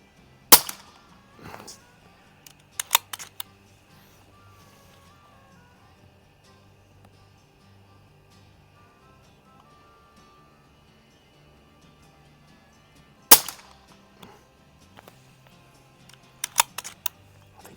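Notos PCP air rifle fitted with a C88 FX barrel kit firing two separate pairs of sharp, loud cracks, with quiet mechanical handling between the pairs.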